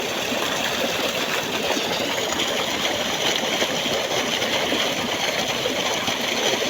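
Water gushing from a borewell outdoors, a steady, loud, broad rushing roar that stays unbroken throughout with no talk.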